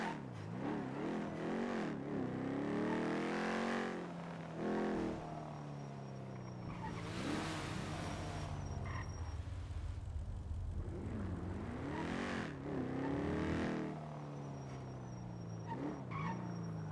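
A car engine in the NoPixel GTA game revs and rises in repeated sweeping climbs, with tire squeals and skidding between bursts, loud and close throughout.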